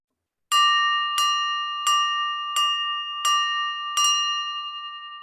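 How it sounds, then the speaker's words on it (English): A clear ringing bell struck six times at an even pace, each strike bright and close with a sustained tone that decays under the next, used as a brain teaser cue during a healthcare talk show. "there is that brain teaser bell again"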